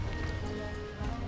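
Horse hooves clip-clopping in the horse-riding game Star Stable, a steady, muffled patter of footfalls over low rumbling background noise, close and continuous through a short stretch.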